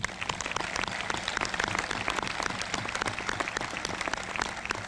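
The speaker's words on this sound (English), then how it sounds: "If we could all give them a round of applause." At a 2022 graduation ceremony, the gathered audience applauds the graduates with a dense, even wash of clapping that holds steady throughout, with no talk over it.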